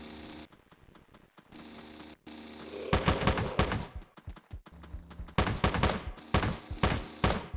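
Video game gunfire crackles in dense bursts of rapid shots, quiet at first, then loud volleys from about the three-second mark, with a short pause before another heavy stretch of firing.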